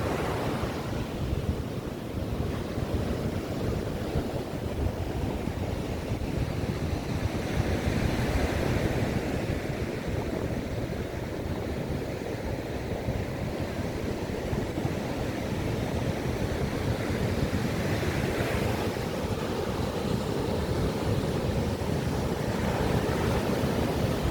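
Strong surf rolling onto a beach, a continuous loud roar of breaking waves with wind noise on the microphone, swelling and easing over time with no voices.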